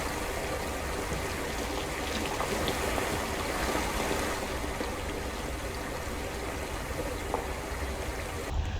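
A waterfall pours into a pool in the video game Isle, with a dense, unbroken rush of falling water that stays loud and even for the whole stretch, no voices over it.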